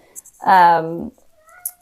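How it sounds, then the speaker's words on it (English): A cat meows from behind a closed door, one clear drawn-out call near the middle, fairly loud and alone with faint background noise around it. "So if you hear my cat meowing, sorry, I have the door closed and he wants in."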